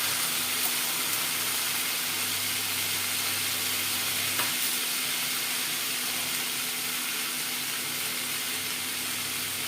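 Vegetables fry slowly in a pan for an onion-free, garlic-free vegetarian dish, giving a steady, even sizzle that runs the whole time with one brief stir near the middle.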